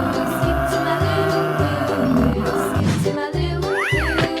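Game-style buffalo call in a 3D animal sliding game: a low bellowing moo-like sound layered over busy, loud looping background music and effects, with a rising whoop near the end.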